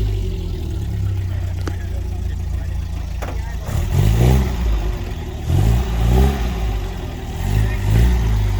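A classic Triumph TR4 sports car engine rises in several throaty revs as the car pulls away at a British car show, the surges repeating in waves over steady background crowd noise.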